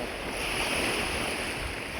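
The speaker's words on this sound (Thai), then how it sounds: "ลมระดับนี้เราไปยากแล้วพี่น้อง" Strong wind blows steadily over open water along a riverbank, a continuous broad rushing roar with buffeting against the microphone and no voices.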